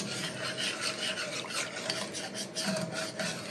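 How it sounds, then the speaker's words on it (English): A whisk works steadily through a thickening sauce in a pan, a continuous close rasping scrape that never pauses. "Just keep whisking."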